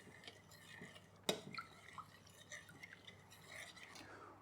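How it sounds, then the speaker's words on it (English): A spoon stirs 15 grams of yeast into half a liter of lukewarm milk, giving quiet, soft swishing with one sharper clink against the container and a few faint taps afterward. "We start out with half a liter of lukewarm milk, in which we are mixing 15 grams of yeast. Gonna mix that in"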